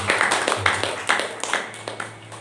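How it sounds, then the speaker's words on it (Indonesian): Church congregation clapping in a quick, fairly steady rhythm for several seconds, moderately loud, with a low hum and faint voices underneath. "Berikan tepuk tangan buat Tuhan."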